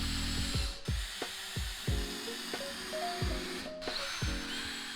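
A power drill drives screws into the wooden body of built-in under-stairs drawers, with several short whirring bursts that wind down, separated by brief pauses, close and fairly loud.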